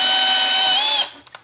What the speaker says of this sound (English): Just drill a small pilot hole.